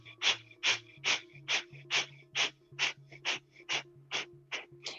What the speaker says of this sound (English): we're going to be having them up 60 degrees and doing breath of fire.